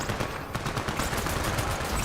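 Rapid automatic gunfire crackles in the video game Borderlands 3, a dense continuous burst of shots at moderate loudness with no voices.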